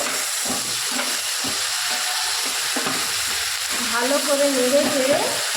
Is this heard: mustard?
yes